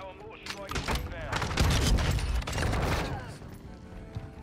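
Gunfire in a Modern Warfare 2 multiplayer match crackles in rapid bursts, a dense rattling fusillade that swells and fades over a few seconds amid game noise.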